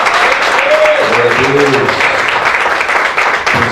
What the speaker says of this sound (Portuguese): Gostaria que você desse uma linda salva de palmas para Jesus pela vida do nosso irmão Marcos